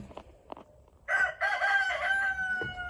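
Meat chickens in a coop give a loud, drawn-out crowing call near the mic after a few scattered soft clucks and scratches, with no talk.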